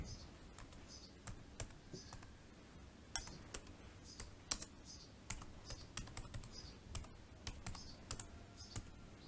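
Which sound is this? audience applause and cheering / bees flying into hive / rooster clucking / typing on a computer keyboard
typing on a computer keyboard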